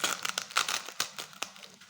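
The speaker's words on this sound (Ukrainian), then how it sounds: "не можу відкрити цей пакетик" Close-up crinkling and tearing of a tightly sealed plastic packet from a toy car set, a series of sharp rips and rustles in uneven bursts with no talking.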